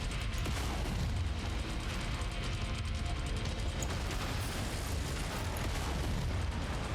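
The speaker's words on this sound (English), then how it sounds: "I guess what we're going to do here is just use our machine guns to unload on everything in sight." Heavy, continuous roar of machine guns and explosions as mechs demolish targets in the video game Mechwarrior 5: Mercenaries, dense and loud with rumbling impacts throughout.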